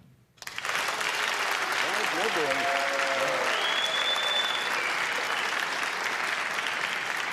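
A television studio audience applauds for Senator George McGovern, with loud sustained clapping and some cheering that begins abruptly after a brief quiet moment and carries on evenly.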